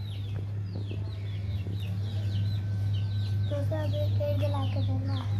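Hens cluck in short, repeated calls over a steady low hum, with a run of brighter, tonal clucks toward the end. The calls sit fairly close and moderately quiet.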